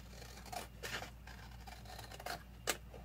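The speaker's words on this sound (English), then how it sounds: "So I'm going to cut the photo out first." Scissors cutting out a small printed photo for a mini album, a few soft snips and paper scrapes spaced across the moment, close and quiet, with one sharper snip near the end.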